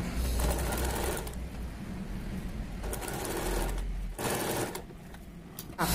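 A sewing machine stitches a sweetheart neckline with a steady, close mechanical whir that pauses briefly and restarts several times.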